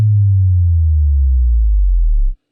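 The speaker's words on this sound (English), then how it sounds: "There is a bass drop." Synth bass drop made in Logic Pro 9, a loud, deep pure tone sliding steadily downward from low bass to sub-bass over about two seconds, then cutting off abruptly, heard alone.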